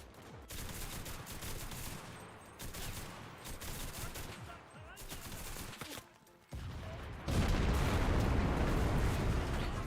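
Light machine gun fire in the World War II shooter Enlisted crackles in dense rapid bursts with short gaps, mixed with distant battlefield gunfire and booms, swelling louder and fuller near the end.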